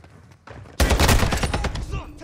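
Sustained burst of rapid gunfire in Call of Duty: Modern Warfare II team deathmatch, loud and dense after a quieter lead-in, with a voice briefly heard.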